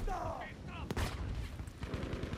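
Rapid gunfire rattles through a Battlefield V match, dense overlapping shots with a sharp loud crack near the middle and continuous battle noise throughout.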